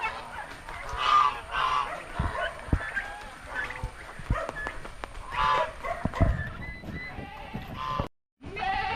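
Geese honk repeatedly in irregular bursts amid farmyard noise, some calls close and loud, others overlapping, with a brief dropout near the end.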